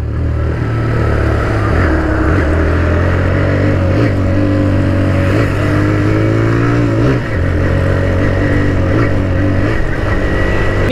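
A TVS Raider 125 motorcycle engine hums loudly and steadily up close as its fuel runs out, with a few slight dips in the drone.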